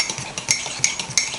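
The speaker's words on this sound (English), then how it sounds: "Make sure you stir it well" Rhythmic clinking of a utensil stirring keto mug cake batter in a mug, quick repeated taps against the sides at close range, with no talking.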